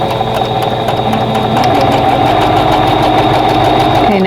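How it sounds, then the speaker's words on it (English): A sewing machine runs continuously, stitching a fabric seam on a quilt block, a loud, close, steady motor whir with a rapid needle rhythm and no pauses. "now we're ready to sew that seam"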